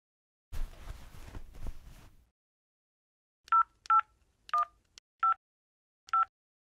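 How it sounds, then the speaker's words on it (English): Telephone keypad dialing: six short, clear touch-tone beeps spaced irregularly, preceded by a brief burst of rustling handling noise, with silence between tones. "I need to call John."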